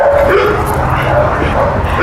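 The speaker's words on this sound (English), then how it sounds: "There's a dog barking at the fence line, causing a commotion." A dog barks and yips at a fence line on a ranch, loud and near amid a restless commotion, with a person talking over the barking throughout.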